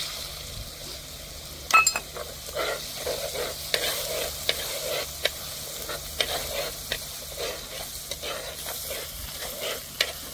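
Chopped onions fry in ginger garlic paste with green chillies, a steady close sizzle broken by frequent light stirring scrapes and taps in the pan, with no talking.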